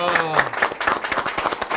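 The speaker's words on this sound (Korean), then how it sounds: "그렇게 생각하시면 박수 한번 보내주세요." Audience applause at a live talk show lecture, a dense run of clapping hands that fills the short stretch at moderate loudness, with voices mixed in underneath.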